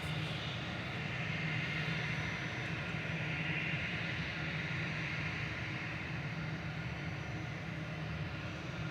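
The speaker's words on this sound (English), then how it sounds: "This is EasyJet going to Belfast, A320-200 Classic GEZRX," An EasyJet Airbus A320-200 Classic bound for Belfast at Manchester Airport gives a steady, moderately distant engine roar, broad and unbroken through the whole stretch.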